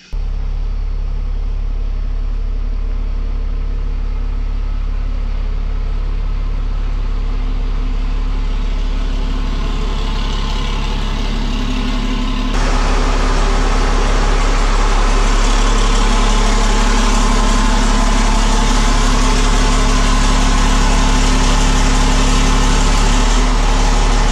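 A Cummins diesel drag truck engine idles steadily with a deep, constant rumble, growing noticeably louder and fuller about halfway through, with no voices.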